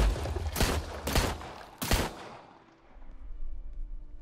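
Three heavy gunshots boom in quick succession inside Backrooms Break, each loud and close with a rumbling tail, then the sound fades into a low hum.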